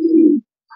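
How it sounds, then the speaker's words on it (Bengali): A racing pigeon gives a single loud, low coo close by, then falls quiet before a faint soft note at the end. "সবই মাশাল্লাহ কোয়ালিটি কবুতর গুলা।"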